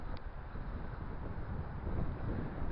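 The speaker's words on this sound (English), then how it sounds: "The wind here is colossal. It's like going up against an invisible wall." Strong coastal wind buffets the microphone at Boddin Lime Kiln on the Scottish shore, with the tide far out. It is a steady, loud, low rumbling roar that swells slightly toward the end, with no voices.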